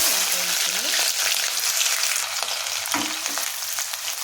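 Thinly sliced onions hit hot oil for chicken with coconut rice, a loud steady sizzle and crackle of frying throughout, with occasional stirring and faint talk beneath.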